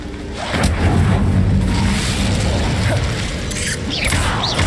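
An Incendio fire spell cast in Hogwarts Legacy, a sustained roaring, crackling burst of fire with mechanical whooshing layers, loud and continuous throughout.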